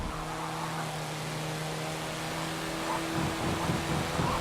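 Race car engine in a Forza Motorsport 7 online race, a steady droning tone that shifts pitch slightly near the end, heard alone at moderate level.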